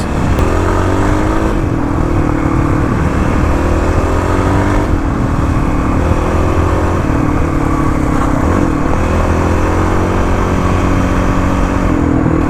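A Kawasaki KLX351 dirt bike roars loud and close on rally roads, its engine revving and easing continuously as the rear tire loses traction and slides out of corners.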